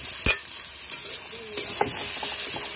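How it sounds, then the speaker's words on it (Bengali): Tomato and capsicum stir-fry in a pan, with a close sizzle under scattered spatula taps and scrapes against the metal. "নেড়ে ভেজে নেবে তো?"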